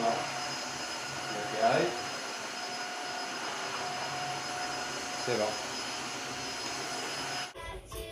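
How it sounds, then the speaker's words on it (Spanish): Three-in-one vacuum cleaner, scrubber and mop running indoors with a steady, even whir throughout, cutting off near the end; brief speech sits over it. "esta ha sido la demostración de esta super aspiradora, fregadora y mopa, las tres en una."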